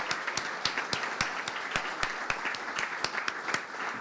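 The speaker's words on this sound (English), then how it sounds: "Can we just have a round of applause for Suzanne and Elliot?" An awards ceremony audience at a film festival applauds steadily, a moderately distant wash of many hands with a few sharp, distinct claps standing out rhythmically against it, no voices on top.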